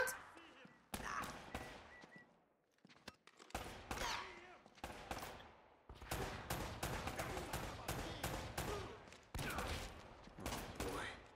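Repeated bursts of gunfire from an Uncharted 4 firefight against an enemy wielding a shotgun, loud and close, with clustered shots and short pauses over about eleven seconds while people talk in between.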